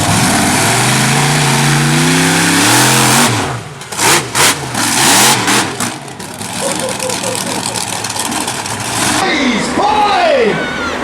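Quad bike engines in a stunt show arena rev loudly and continuously, rising and falling through repeated throttle blips, with a voice on a loudspeaker partly heard over the engines.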